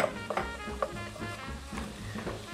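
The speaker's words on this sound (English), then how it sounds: "Take the onion, pour it into the pot with the butter, saute." Onion and celery sauteing in butter in a pot over medium heat, a soft steady sizzle with occasional stirring clinks and scrapes close by.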